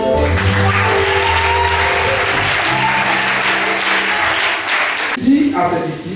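A church congregation applauds and cheers loudly for the Lord, a dense continuous clatter of clapping with voices mixed in, fading near the end as a voice comes in.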